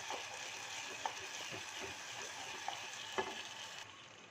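A spoon stirs jackfruit payasam cooking in a pan for a traditional Kerala dessert, with a steady soft bubbling sizzle and a few light scraping clicks against the pan.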